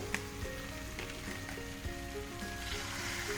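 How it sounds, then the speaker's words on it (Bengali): Water poured into cooked spice paste for papaya dalna, a continuous sizzling hiss and bubbling from the hot pan, close and steady, with a few clinks and no talk. "এবার আমি এর মধ্যে জল দিয়ে দেবো।"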